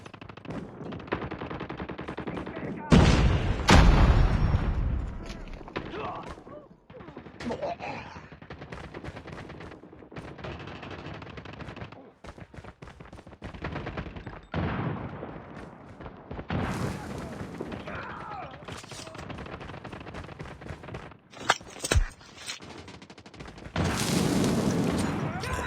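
A grenade explosion and gunfire in the mobile shooter game Call of Duty Mobile: booming blasts and rapid automatic fire, loud and continuous, with voices talking over the action.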